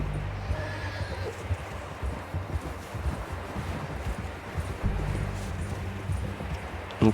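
A horse in Red Dead Redemption 2 gives a whinny while hooves clop steadily on the ground, amid an outdoor wind-like ambience with a dull thump near the end.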